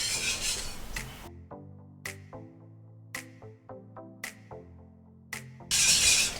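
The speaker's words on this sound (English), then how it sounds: "It's definitely an arm workout, all of this whisking." A whisk works a thickening vegan cheese pasta sauce in a pot, with scraping strokes at either end and a run of ringing metallic clinks between them, close and fairly quiet.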